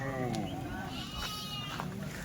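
Kathewadi goats bleating in a herd, with several wavering calls close by and a steady rumble underneath while someone talks over them.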